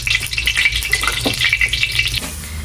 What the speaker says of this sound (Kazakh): Қазір падекті да қазанға қуырып алған жатырмыз.